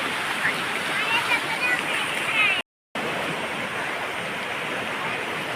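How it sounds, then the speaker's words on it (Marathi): River water flows in a steady, dense rush near a waterfall on a family outing, loud and continuous, cut by one brief dropout midway. "अशी वाहत नदी येते"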